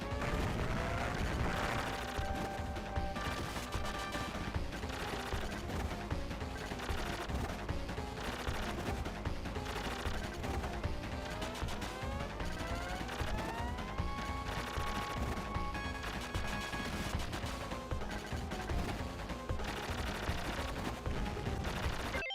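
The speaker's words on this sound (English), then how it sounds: "just shooting him down with the default weapon" Rapid gunfire from the default weapon in the video game Contra Hard Corps, a dense, continuous barrage of shots running nonstop under busy game music and effects, loud and steady throughout.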